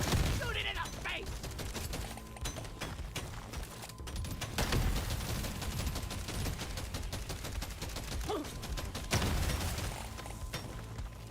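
Dense, continuous gunfire and rapid automatic bursts fill a fight in the video game Deep Rock Galactic, loud and chaotic throughout, with several people shouting over it.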